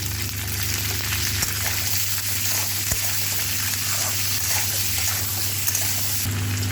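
Small potatoes and peas sizzle steadily in a wok with salt and turmeric, a dense close frying hiss over a low hum, with a couple of faint knocks and no speech.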